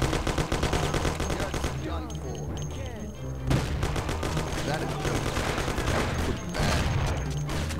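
Video game gunfire in Mafia, rapid continuous bursts of automatic shots with booming reports, loud and relentless throughout with a brief lull partway, while a voice talks over it.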